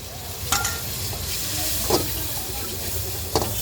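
Tomato puree sizzles and hisses in a hot pan at a food stall while being stirred, a dense, steady frying noise with a few scraping stir strokes rising above it, close and fairly loud.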